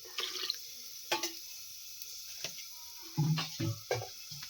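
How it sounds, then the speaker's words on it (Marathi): Quiet, intermittent splashes and trickles as water is poured into a cooking pot of khichdi with cumin, with a fuller gush near the end and silence between. "त्यामध्ये थोडा वेळ पाणी घालून ठेवूयात"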